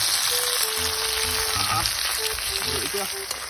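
Ugaong sea snails frying in a pan with ginger, garlic, onion and tomato give a steady loud sizzle and crackle throughout, close up, with faint tonal noises in the background.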